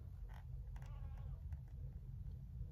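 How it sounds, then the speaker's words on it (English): A cat hunting in a tree outdoors gives a couple of faint, short meows and chirps over a steady low background rumble, with no other sounds standing out. "Sorry, my cat is hunting in his tree over there."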